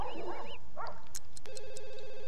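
An in-game telephone in The Sims 2 rings with a warbling electronic tone, first in chirpy bursts mixed with other game sounds, then a steady trilling ring, loud and close.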